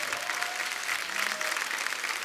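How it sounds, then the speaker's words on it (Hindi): Enthusiastic studio-audience applause greeting guests on a Hindi TV comedy talk show, a dense, steady clapping roar that holds at even loudness throughout, with a few faint voices mixed in. "जोरदार तालियां।"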